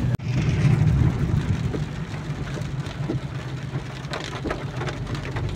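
Rain falls steadily with a soft, even patter and a low rumble underneath, continuous and moderately loud after a brief opening sound.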